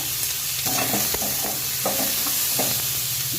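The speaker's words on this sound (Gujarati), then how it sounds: "જ્યાં સુધી આપણા ટામેટાં પોચા ના થાય ત્યાં સુધી આપણે એને સાંતળી લેવાનું છે" Onion and tomato sautéing in a pan over a high gas flame, giving a steady close sizzle and fry broken by repeated scrapes and knocks of the spatula as the mixture is stirred, with no talk.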